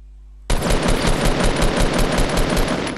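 Sustained rapid automatic gunfire from the Fortnite battle royale video game bursts in suddenly after a brief quiet moment and continues loud and dense for over two seconds.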